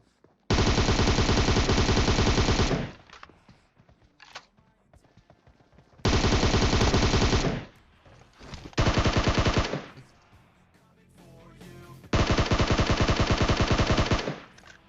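Automatic gunfire in the mobile battle-royale game PUBG Mobile: three long, loud sustained bursts of rapid fire separated by short pauses, plus a brief faint shot between them, with no talking.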